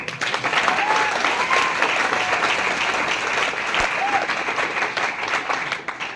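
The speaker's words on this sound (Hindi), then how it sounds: "तो यार एक बार ताली बजाने के लिए।" Audience applause fills a classroom motivational session, a dense steady wash of many hands clapping throughout, with a few faint whoops rising above it.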